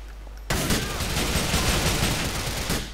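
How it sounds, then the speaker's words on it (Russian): Dense, sustained gunfire from Grand Theft Auto IV bursts in suddenly after a brief quiet moment, with rapid overlapping shots that continue loudly to the end. "А, это ты стреляешь? Я уже думал, это стреляет кто-то из люков."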